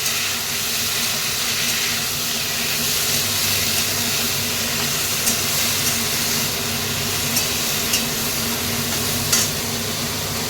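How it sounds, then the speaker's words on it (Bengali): Asafoetida is tempered in hot oil in a pan, and then potatoes go in to fry. A loud, steady sizzle and hiss carries on throughout, with a few faint clinks of a utensil and no talking. "হিংটা ফোড়ন দিয়ে দিয়েছি, সাথে সাথেই আলুটা দিয়ে দেবো"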